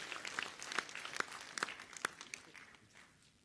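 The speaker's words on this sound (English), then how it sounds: "you deserve a round of applause for yourself and other" A small group in the audience at a communist party special national congress claps in a thin, scattered burst of distinct hand claps that fades out after about two seconds.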